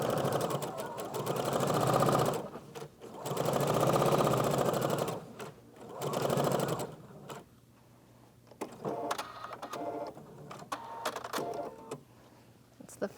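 Sewing machine stitching base stitches along a fabric stitch line, running in three steady bursts of a few seconds each, then stopping for quieter handling clicks and rustles.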